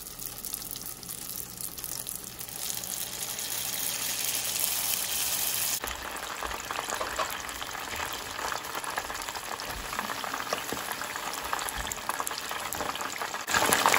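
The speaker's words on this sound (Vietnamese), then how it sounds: "bây giờ mình đem từng này chả giò mình đi chiên lên nha mọi người" Vietnamese spring rolls (chả giò) deep-frying in hot oil, a steady loud crackling sizzle that grows denser and busier midway and continues throughout with no talking.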